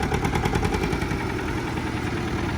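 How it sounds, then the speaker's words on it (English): An old 1930s tractor engine starting and chugging loudly in a fast, steady rhythm of low thumping pulses, close by and running continuously. "we were trying to start an old 1930s tractor. Oh, first time!"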